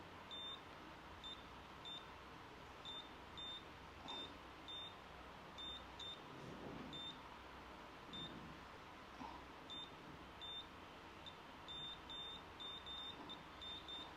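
A multimeter on continuity mode tests phone capacitors, giving short, high electronic beeps in quick, irregular bursts over a faint, quiet room hum.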